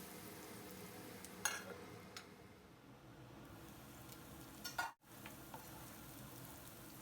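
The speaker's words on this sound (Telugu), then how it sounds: "ఆనియన్స్ని కూడా మంచి కలర్ వచ్చే వరకు ఫ్రై చేసుకుందాము" Onions frying in a pan for Hyderabadi mirchi ka salan, a steady low sizzle throughout with a few brief clinks and a short sharp knock near the end, no talking.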